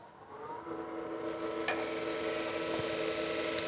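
A hand scraper cuts a wet wood bowl blank spinning on a lathe, giving a steady close rasping and scraping with a low motor hum underneath.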